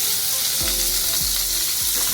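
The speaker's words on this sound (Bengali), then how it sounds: "পটলগুলো ভাজা হয়ে গেছে" Sliced pointed gourd (potol) fries in oil in a pan, a loud, steady close-up sizzle with a few low thuds from the pan, no voices.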